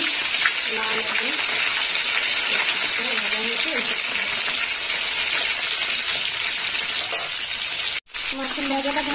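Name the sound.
rohu fish frying in oil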